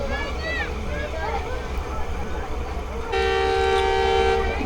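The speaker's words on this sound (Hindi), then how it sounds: "अब ट्रेन हमारी जमपीर से निकल रही है" The Rehman Baba Express rumbles out of Jampir station with steady rail noise and faint squeals, then a loud sustained horn blast sounds in the final second and a half.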